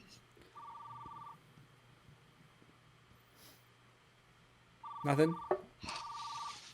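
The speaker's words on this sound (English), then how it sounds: "You gotta answer the phone right now?" A telephone rings in two short electronic trilling bursts with a gap between them, heard during a scene from the 1984 film Beverly Hills Cop, with brief speech and a louder noise in between.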